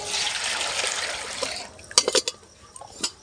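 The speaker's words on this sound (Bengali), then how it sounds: "জল দিলাম, জলটা হালকা গরম হবে।" Lukewarm water pours into a kadai for oil pitha in a steady, close rush that stops partway through, followed by a few sharp clinks and knocks of the pan and utensils.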